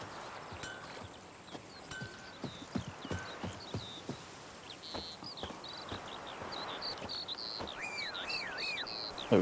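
Horse hooves clop steadily in The Witcher 3, a close, rhythmic run of hoofbeats over a crickety outdoor ambience, with a few whinnies and chirping sounds rising toward the end.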